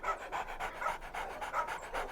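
A dog named Gabin pants quickly and steadily, with rhythmic close breaths repeating several times a second at low volume.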